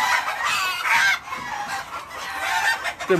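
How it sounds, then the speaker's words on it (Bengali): Several Fayoumi chickens cluck and squawk close by, a busy overlapping chorus with louder bursts, no talking. "ফাউমি মুরগি হলো"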